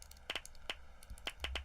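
A random NPC clap effect from the Skyrim video game: a few quiet, sharp clap-like hits spaced irregularly over a low background hum.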